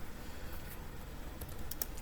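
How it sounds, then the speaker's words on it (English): Typing on a computer keyboard: light, scattered key clicks, faint and close against a quiet room hiss, with no talking. "we're going to go ahead and start typing in this section here."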